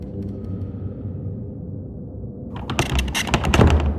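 A locked door rattles in a haunted-house video game, quiet at first, then several loud clattering jolts and thumps as the handle is tried repeatedly.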